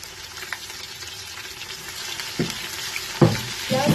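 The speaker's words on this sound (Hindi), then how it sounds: "1 कप ऑयल गर्म होने के लिए रख दी है मैंने। तो मैं प्याज डालूंगी इसमें।" Onions fry in a cup of hot oil for beef biryani, giving a steady close sizzle with a few clinks and scrapes of a spoon stirring them in the pot.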